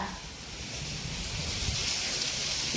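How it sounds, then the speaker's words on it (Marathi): Heavy monsoon rain pours steadily as a dense, continuous hiss with no breaks, close and fairly loud, without talk. "लय डेंजर पाऊस राव हा"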